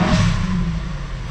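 A Volkswagen Jetta wagon engine revs close by in a short rising burst, then eases off with a soft rushing whoosh.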